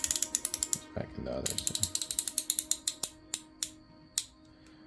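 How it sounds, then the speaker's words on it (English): A Craftsman V-Series ratcheting wrench clicks close up in a quick run of sharp metallic ticks, then slows to a few spaced clicks as the lever is switched. Someone speaks briefly partway through. "ratcheting mechanism. You switch the lever."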